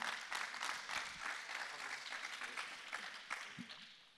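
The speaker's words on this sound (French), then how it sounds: "on peut vous applaudir" An audience at the Innov'Space 2020 trophy award ceremony gives steady applause. The applause is fairly soft and distant and tapers slightly toward the end.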